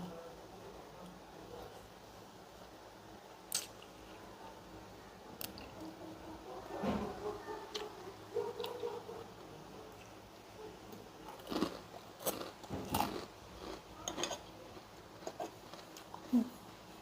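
Close, quiet chewing and biting of Thai pork sausage (moo yor), with soft squishy bites and mouth sounds coming in irregular bursts over a faint background.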